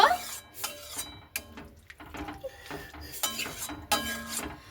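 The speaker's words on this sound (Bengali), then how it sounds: "তো জলটাকে দিয়ে হালকা করে এইভাবে আমি কিন্তু নাড়াচাড়া করে নেব।" A utensil stirs and scrapes flat beans with a little water in a pan, making intermittent metallic clinks and scraping strokes, close by, with soft sizzling between them.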